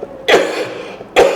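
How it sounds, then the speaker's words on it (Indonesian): Two sharp coughs from one person during an Indonesian talk-show book discussion, the first near the start and a second about a second later, close and fairly loud, with no speech between them. "Aduh, saya batuk nggak sungguh-sungguh."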